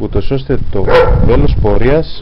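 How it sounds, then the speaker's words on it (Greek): A dog barks in short bursts close by, partly under a person speaking steadily outdoors during a map-and-compass lesson. "αυτός είναι ο σκύλος μας"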